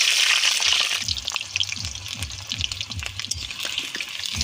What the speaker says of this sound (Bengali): তেলটা গরম হয়ে গেছে মাংসের আলু পিসগুলো দিয়ে দেবো